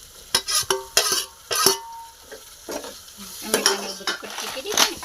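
Chillies with ginger and garlic are stirred and mixed in a pan for a gravy-style peanut bhajiya curry. A utensil scrapes and knocks against the pan in irregular, close bursts, with a light sizzle underneath.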